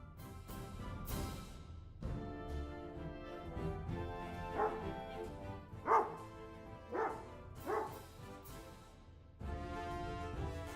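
Dog barks from a Dwarf Fortress game, a series of about six loud, tonal barks and yips spaced a second or two apart, near and clear over a faint background.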